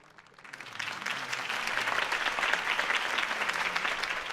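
A crowd in the Telltale Batman video game bursts into applause at a political campaign speech, clapping swelling up within a second and holding as a dense, steady roar of many hands.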